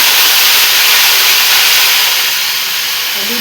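Cauliflower frying in hot oil gives a loud, dense, continuous hiss close by that fades slightly toward the end.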